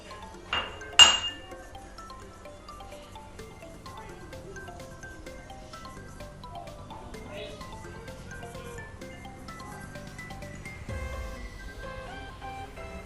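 Metal utensils clink sharply against a baking tin being greased with flour for a molten lava cake, two bright strikes near the start and then softer scraping and tapping under faint background sound.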